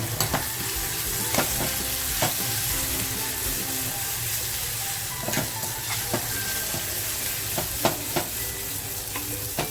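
Chopped tomatoes for a dhaba-style dal tadka fry in a hot pan with a strong, continuous sizzle, broken by regular scraping strokes of a spoon stirring close up; nobody speaks.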